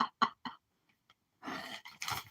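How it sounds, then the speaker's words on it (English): Several sharp coughs close to the microphone, first three quick separate hacks, then after a brief pause a longer, rougher burst of coughing. "Hang on a second. I got a cough."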